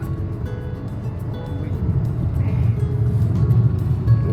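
A car cruising along the Samruddhi expressway produces a steady, low road-and-engine rumble from inside the cabin, swelling slightly over a few seconds, with faint voices underneath.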